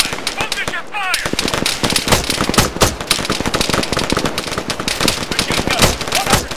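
Rapid machine gun fire in the Arma 3 video game, loud dense bursts of shots running almost continuously through a chaotic infantry firefight.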